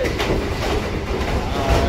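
A Kolkata Circular Railway local train comes into Kolkata station, giving a brief, steady loud rumble with a low mechanical drone heard from aboard.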